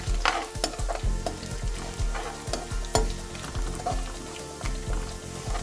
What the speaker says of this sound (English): Nothing beats the smell of fresh garlic and mustard seeds cooking together.